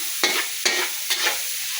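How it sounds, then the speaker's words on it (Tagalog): Something sizzles in a pan during a cassava cooking session, with three quick stirring strokes that each bring a short burst of sizzle over a steady hiss, close and without voices. "Nagigisa na"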